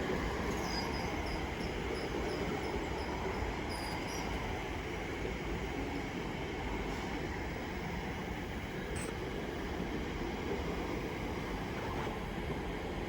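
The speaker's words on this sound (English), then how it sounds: "As another Elizabeth Line pulls in for Shenfield." Elizabeth Line train pulling into Stratford station, a steady broadband rumble of wheels on track with faint high squeals and brief chimes, continuous and fairly distant.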